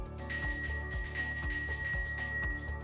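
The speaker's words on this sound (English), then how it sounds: "if you pull here, it rings like back in the days" An original antique pull bell at an apartment entrance rings close and bright, jangling in several quick, repeated strikes.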